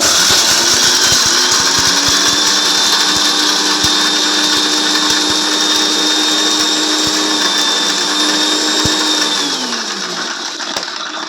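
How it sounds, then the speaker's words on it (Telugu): A kitchen mixer grinder whirs steadily as it grinds whole spices, a loud high-pitched motor drone with a faint rattle of the contents that holds for about nine seconds, then winds down as it is switched off. "దీంట్లోకి దినుసులు అని చెప్పాను కదండి ఇవన్నీ వేసుకుని ఇప్పుడు మిక్సీ అయితే పట్టేసుకుంటున్నాను"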